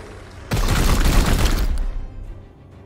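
A burst of heavy gunfire in Chaos Gate: Daemonhunters, a sudden loud booming volley lasting over a second before fading into rumbling, with no talking.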